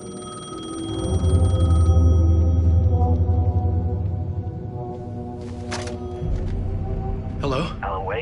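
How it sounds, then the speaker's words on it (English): Payphone ringing in an Alan Wake–style game scene, a steady electronic ring tone with sustained tonal bursts over a low droning ambience, followed by short voiced sounds near the end. "The payphone was ringing."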